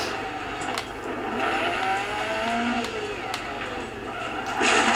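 A rally car in the Dirt 4 video game runs with a steady engine drone, brief skids and tire scrabble, and a louder surge at the end, with faint talk in the background.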